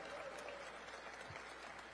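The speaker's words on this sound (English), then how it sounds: "Give her a great big round of applause." Steady audience applause at a national town hall during a legislative conference, a dense continuous wash of clapping heard at moderate distance throughout the short stretch.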